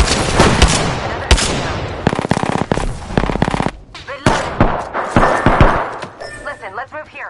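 Gunfire in the Apex Legends video game: loud, close bursts of rapid automatic shots with sharp single cracks in between, stopping and restarting in uneven volleys, with brief game sounds in the gaps.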